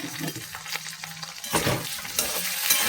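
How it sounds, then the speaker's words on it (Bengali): Potatoes frying in a pan sizzle steadily close by, with stirring scrapes and clatters throughout and the sizzle swelling louder in the second half; nobody speaks. "আলুটা বেশ ভালো করে ভেজে নেব আলুটা একটু ভেজে দিই"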